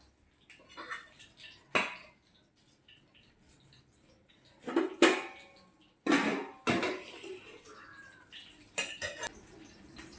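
Metal dishes and utensils clink and clatter in scattered bursts as rice is served, with sharp scraping hits and quieter pauses between, close by with no talking.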